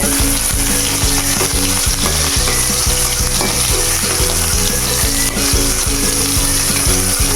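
Onions frying in hot oil for squid adobo make a loud, dense, continuous sizzle and crackle heard up close, with stirring clatter underneath and no voices.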